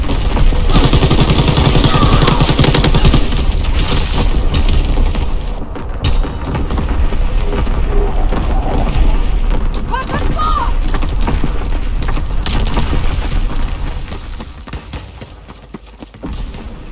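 Artillery battery barrage in Call of Duty WWII, a dense, continuous roar of booming explosions and rapid gunfire that stays loud throughout, easing off slightly near the end.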